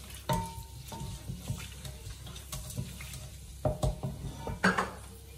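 Thinly sliced long onions going into a pan for Nellore-style fish curry, with clattering pan and utensil knocks and a soft frying sizzle, some sharper clanks near the end.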